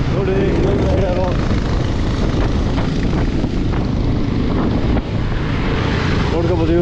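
Motorbikes from a large riding group near Chikkamagaluru pass close by, a loud continuous engine roar and rushing wind throughout, with someone talking over it.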